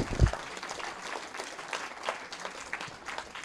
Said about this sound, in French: Et on peut les applaudir également bien fort.